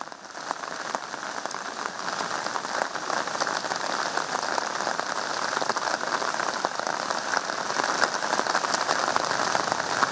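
Heavy monsoon rain pours down in Udupi, a dense, continuous hiss of drops drumming on surfaces, steady and fairly loud throughout with no voices.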